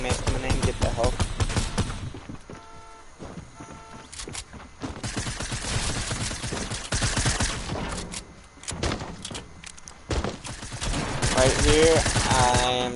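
Gunfire in the Fortnite video game, with repeated bursts of rapid shots and scattered single cracks near and far throughout, while a person talks briefly over the action.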